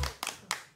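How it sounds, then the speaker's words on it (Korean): Three or four sharp, separate claps from a small studio audience on a Korean wellness talk show, each a crisp burst with short gaps between them. "박수 한번 쳐주세요."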